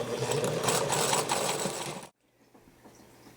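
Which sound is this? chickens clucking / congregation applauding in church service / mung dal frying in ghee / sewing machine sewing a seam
sewing machine sewing a seam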